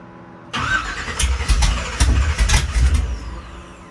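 A 496 engine cranks and catches after a quiet moment, bursting into a loud, uneven running rumble with rhythmic surges and pulses as it fires, close by.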